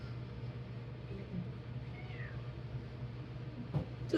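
A pet cat named Cookie meows faintly in an indoor room, a soft brief call over a steady low hum, with a sharper sound near the end.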